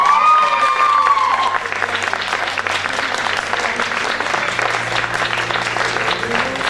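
Steady crowd applause fills the hall for a contestant at a regional Miss Aisne pageant proclamation, with a brief tonal sound at the start and low music humming beneath the clapping.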